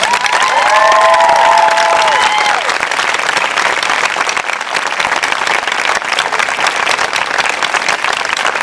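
A crowd at a 2002 September 11 tribute in Holyoke applauds and cheers, loud sustained clapping with a few whoops rising early on, then continuing as an even, full wash of claps.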